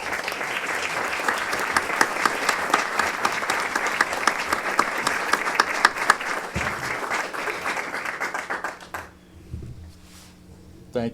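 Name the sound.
applause at portrait unveiling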